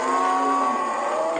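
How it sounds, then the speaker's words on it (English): A single long, steady moo comes from Pokot cattle being driven home, fairly close and clear, holding on without a break for over a second. "At the end of the day, the cattle are driven slowly home."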